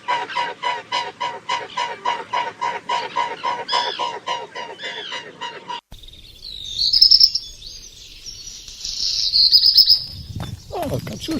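Rapid, repeated honking calls from a flock of geese, loud and rhythmic, then a shift to higher, sharper bird calls with some rustling.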